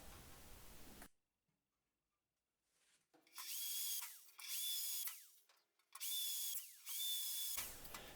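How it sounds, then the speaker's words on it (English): A power drill boring holes into bicycle disc brake rotors, heard as four loud whining bursts with rising and falling pitch, each roughly a second long and separated by brief pauses, with no talk. "The next step is to drill the holes in the disc brakes, front and back."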